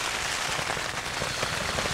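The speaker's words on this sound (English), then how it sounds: "but it started raining. It's absolutely chucking it down." Heavy rain pounds on a tent in a dense, continuous hiss of drops, loud and close, with no voices.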